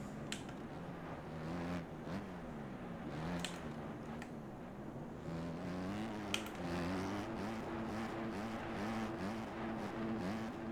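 Motocross bikes race in the MX Bikes video game, with engine notes rising and falling as the riders accelerate and shift, a fairly quiet, continuous drone with no voices.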